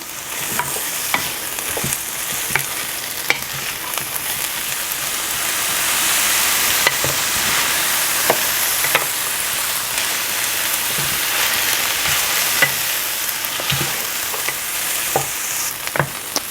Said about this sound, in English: now I'm going to add my carrots to this